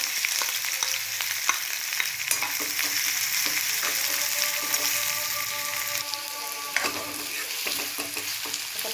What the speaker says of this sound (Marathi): कांदा ना व्यवस्थित भाजून घ्यायचा